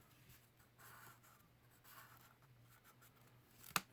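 A pen traces around a flimsy paper template onto cereal box cardboard, producing faint intermittent scratchy strokes that end in a single sharp tap.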